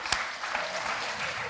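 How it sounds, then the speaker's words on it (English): Audience applause at a Brookline High School event with Joe Kennedy, a steady wash of clapping from a crowd with a sharp, close clap near the start, continuing evenly throughout. "I will pass along the applause to her"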